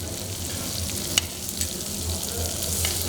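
Potatoes frying with coriander in hot oil give off a steady, close sizzle, with a few brief stirring clinks over the continuous crackle.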